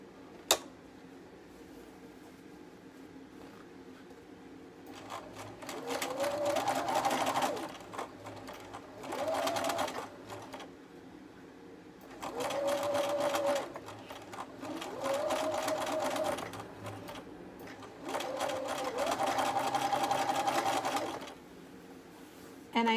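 A sewing machine stitches a ruffle onto a diaper cover, running along the top stitch line in four or five separate bursts of steady whirring with short pauses between them, fairly close and on its own.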